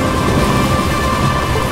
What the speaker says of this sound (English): Why are we flying in the air when it's a thunderstorm?